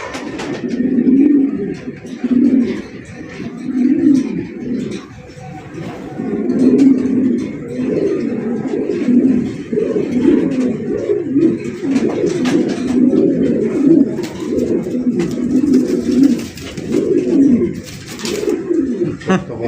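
Pigeons coo over and over in a steady, throaty rhythm, close by at a pigeon farm, with soft voices murmuring in the background.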